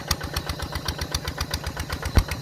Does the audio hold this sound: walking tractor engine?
yes